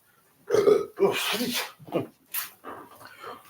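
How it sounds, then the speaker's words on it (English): A loud, close burp opens with a deep croaky rumble, followed by a few shorter throaty grunts and breathy noises that trail off. "Had to burp."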